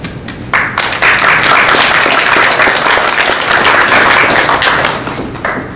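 An audience claps for the speakers at an Indigenous justice forum, a full, steady round of applause lasting several seconds, loud and close.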